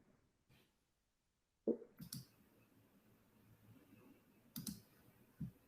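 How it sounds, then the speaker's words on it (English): Computer keyboard typing, sparse, close clicks in short bursts separated by quiet pauses, with a faint hum in between. "I'll type in CloudTrail"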